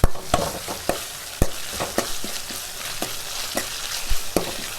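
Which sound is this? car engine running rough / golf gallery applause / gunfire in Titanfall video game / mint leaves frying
mint leaves frying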